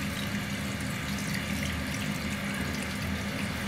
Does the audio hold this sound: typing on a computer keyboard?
no